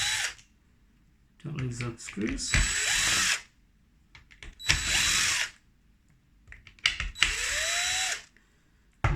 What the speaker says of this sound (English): You can do this by hand or with a drill like this.